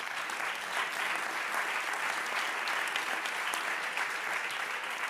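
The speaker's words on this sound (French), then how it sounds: "Merci d'applaudir Monsieur Jean Viard" Conference audience gives an even, continuous round of applause for a keynote speaker, many hands clapping at a steady level throughout with no voices.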